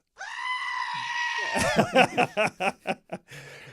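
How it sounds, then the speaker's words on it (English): Panicking goat sound effect: a long strained bleat followed by a rapid series of short, loud, frantic bleats, heard alone. "Panicking goat sound."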